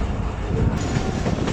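Thal Express train rolling on rails after minor maintenance, departing a curved station: a steady, loud broadband rumble of wheels and carriages with faint clatter, continuous throughout and without speech.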